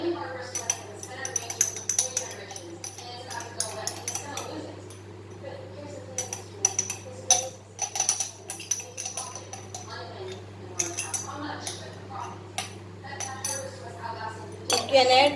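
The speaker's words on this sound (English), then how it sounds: "And now again you mash this together." Bread crumbs and grated Parmesan cheese mashed together in a bowl, giving a run of close clinks and scrapes of utensil on dish, spread unevenly over about fifteen seconds beneath steady talking.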